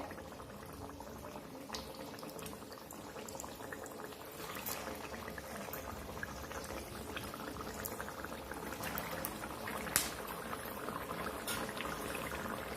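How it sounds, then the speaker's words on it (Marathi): Vada dropped into hot oil on a high flame fries with a dense, steady bubbling sizzle, continuous and fairly soft, with no talk. "तेलात वडा सोडताच्या वेळेस गॅस आपला फास्ट ठेवायचा आहे"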